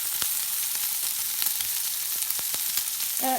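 A ribeye steak fries and browns in its own rendered fat, a loud, steady close-up sizzle with crackling pops throughout.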